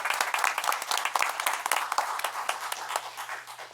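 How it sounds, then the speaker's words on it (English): Applause at a town board meeting during a recognition, a roomful of scattered hand claps sustained steadily throughout at moderate distance, with no speech over it. "Please welcome and stand up for recognition, and we will give you a round of applause."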